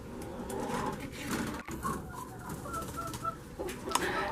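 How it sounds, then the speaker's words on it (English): Chickens clucking and murmuring inside a coop, a steady mix of short overlapping calls at close range with some higher squawks, no talking. "here we got some chickens"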